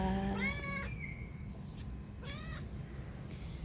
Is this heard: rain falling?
no